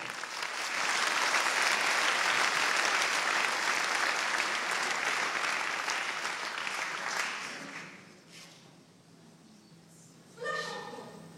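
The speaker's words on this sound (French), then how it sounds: "je vous demande d'applaudir madame la députée de l'opposition" A crowd claps loudly and steadily for several seconds for an opposition member of parliament, then the applause fades out, followed by a brief burst of noise near the end.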